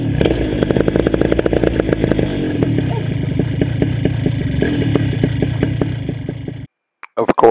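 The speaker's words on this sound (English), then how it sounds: "All right, I'm going to start. Clear prop." Powered paraglider engine and propeller starting up, a rapid rattling, chugging motor sound at close range that runs steadily for several seconds before cutting to near silence.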